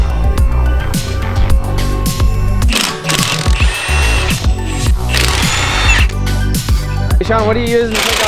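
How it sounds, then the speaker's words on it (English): A Milwaukee half-inch Fuel high-torque impact wrench zips off car wheel nuts, its short, loud rattling bursts repeating over shop noise and ongoing conversation. "What are you using to take off them wheels right there? Milwaukee half-inch fuel high torque impact."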